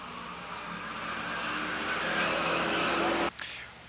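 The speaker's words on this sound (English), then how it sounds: "Here comes Huber on the inside, challenging your leader, car number 3, Scott Engelbrecht." Race cars at Lake Geneva Raceway roaring past on the track, engines building loudly with tire noise, cut off abruptly near the end by a brief sharp sound.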